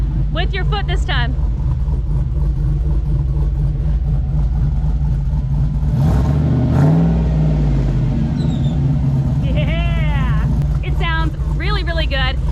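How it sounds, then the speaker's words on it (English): A V8 Jeep Wrangler engine idles with a steady low rumble, then revs up around the middle and settles back, with people talking over it at the start and end. "you go rev it up with your foot this time."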